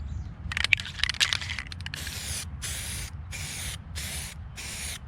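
Aerosol spray paint is applied around holes on a Hallberg Rassy 54 sailing boat during maintenance: a run of quick hissing bursts, then several longer even sprays with short pauses between them, close and steady.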